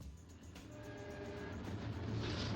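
An eastbound South Shore interurban coach train of orange 1929 steel cars rounds a curve on a downgrade, a steady, building rumble of wheels and running gear with faint squeal tones, growing louder toward the end.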